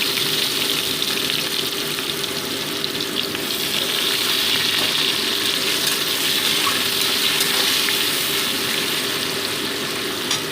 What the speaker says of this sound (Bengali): দিয়ে মোটামুটি পেঁয়াজগুলোকে আমি 2 মিনিট আমি ভেজে নিচ্ছি।